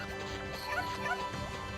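A dog in the Okami video game lets out a couple of quick, light yips over continuous game music, brief and moderately loud.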